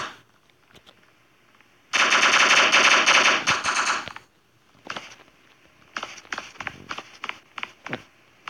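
Gunfire in the video game Block Strike: a dense, loud automatic burst lasting about two seconds, then a scatter of sharper single and clustered shots, with quiet gaps between.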